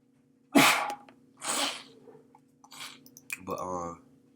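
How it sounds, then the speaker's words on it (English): A person with a stuffed-up nose sneezes several times in a row, loud and close, with sniffing and breathy sounds between the bursts. "I'm sneezing"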